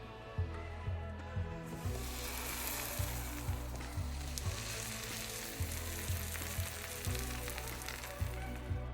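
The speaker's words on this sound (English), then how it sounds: "Now butter your bread and grill it." Buttered bread grills in a pan with a steady sizzle, while soft periodic clunks and a low hum sit beneath the constant frying hiss.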